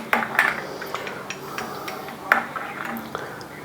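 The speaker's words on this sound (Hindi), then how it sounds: "थोड़ा मिक्स करूँगा ताकि वो पेस्ट है जो थोड़ा ऊपर आ जाए" Paste being stirred into milk with a spoon, giving light clinking and scraping taps against the vessel in short irregular bursts, close by, with a voice speaking softly in between.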